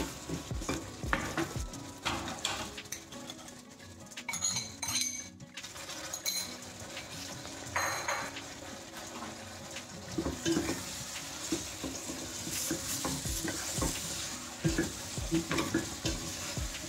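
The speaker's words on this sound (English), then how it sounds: "While this is frying, I'm going to drop in the tomatoes as well." Steady sizzling of potatoes and tomatoes frying in a pot, with frequent metallic clinks and scrapes from stirring throughout; no voices.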